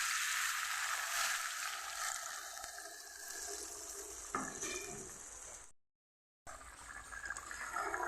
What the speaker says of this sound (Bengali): এই জলটা আমি দিয়ে দিচ্ছি